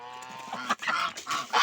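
Farmyard geese honking close by, a few nasal calls in quick succession, loud and alone with no talk.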